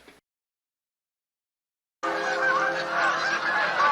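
A flock of geese honks loudly in a film scene, after a brief sound and then silence, with many overlapping harsh calls forming a chaotic, continuous clamor.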